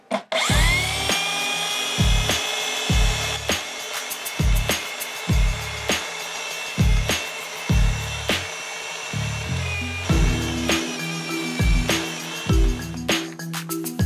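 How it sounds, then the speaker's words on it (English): A belt sander sanding wood runs steadily with a high whine while heavy rhythmic thumps recur about every second. "I've done as much as I can on the belt sander."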